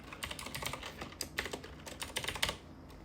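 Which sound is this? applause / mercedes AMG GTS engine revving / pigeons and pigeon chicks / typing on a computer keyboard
typing on a computer keyboard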